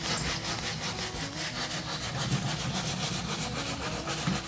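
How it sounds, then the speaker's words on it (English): Wadded paper scrubbed hard back and forth across painted bedroom furniture, giving a steady, close, rasping rub that continues evenly throughout with no talk. "you take that wadded paper and you sand with it, and you really get into it and you really push hard"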